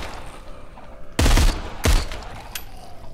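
Two loud bursts of rapid gunfire from the Arizona Sunshine VR zombie game, each a short volley, followed by a faint single shot against a quiet background.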